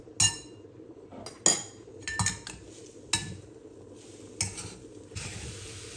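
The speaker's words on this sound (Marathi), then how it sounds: "गूळ एकदा गरम झाल्यावरती छानसं मिक्स करून घ्यायचं" A spoon stirs a hot jaggery and coconut modak filling in a metal pan, giving irregular clinks and scrapes against the pan over a soft sizzle, close and without speech.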